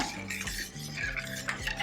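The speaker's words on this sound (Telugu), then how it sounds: "ఒకసారి గరిటతో కలుపుకుందాం" A ladle stirs salted buttermilk made from churned curd, giving soft swishing and light metallic clinks against the vessel in a quiet, close rhythm without speech.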